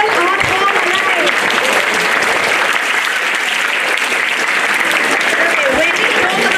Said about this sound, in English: a big round of applause to help keeping this wonderful art form alive